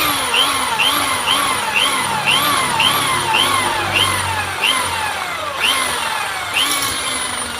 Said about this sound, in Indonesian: Nah, kita borkan dulu.